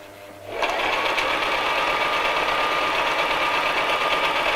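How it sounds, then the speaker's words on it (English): A sewing machine running a straight stitch down tote bag handles starts after a quiet moment and then hums steadily and close at a fast, even rhythm. "I'm going to sew down both sides of my handles quite close to the edge."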